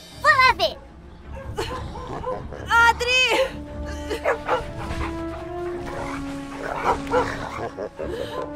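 A dog barks and whimpers close by, with sharp yips and drawn-out whining cries spread over several seconds, while a person calls out in between.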